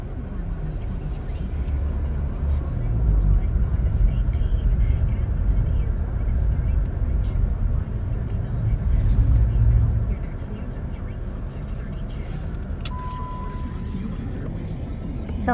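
A car drives along a snowy winter road in Alberta, a steady low engine and tyre rumble that drops to a quieter hum partway through, with people talking inside.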